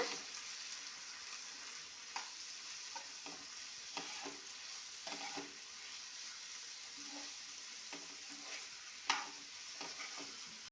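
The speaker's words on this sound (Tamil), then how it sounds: "இதெல்லாம் சேர்த்து நல்லா வதக்கி விடுங்க." Onion, tomato, coriander powder and masala sauté in a pan for prawn thokku, making a quiet, steady sizzle with soft scrapes of stirring spread throughout.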